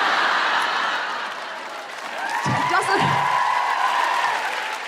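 Live comedy podcast audience at a suffragette centenary special giving a broad wash of applause and cheering, with a few whoops and laughs rising midway, steady and fairly loud throughout.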